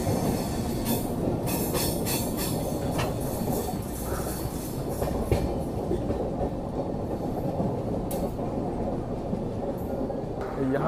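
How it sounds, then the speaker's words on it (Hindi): Geetanjali Express train rolling over a double diamond railway crossing, with steady rumbling wheel noise, rhythmic clatter and brief squeals from the rails, heard from inside the carriage at a constant loud level throughout. "हमारी ट्रेन जो है वो डायमंड क्रॉसिंग को पार कर रही है"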